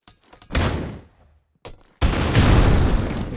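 A grenade in the C-OPS competitive shooter lands with a few light thuds, then a loud, close blast erupts into a sustained roar of explosion and gunfire.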